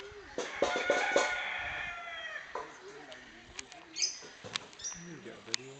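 Chickens cluck and call outdoors in Dean Country Park, Kilmarnock, a cluster of bright calls early on followed by scattered softer clucks against quiet open-air background.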